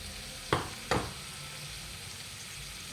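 Chicken fries in a pan with ground whole spices, making a continuous sizzle broken by two sharp scraping stirs early on, close by.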